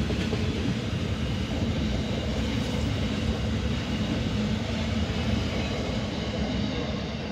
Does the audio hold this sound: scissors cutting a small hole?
no